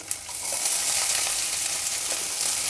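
Green chilies and onions hit hot oil over browned urad and chana dal tempering, starting with a brief clatter and then a loud, even, close sizzle that holds steady without talk.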